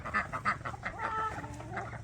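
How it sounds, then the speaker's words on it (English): Domestic ducks on a small farm give a few short, rhythmic quacks close by, fairly quiet, with no talking. "There's my ducks."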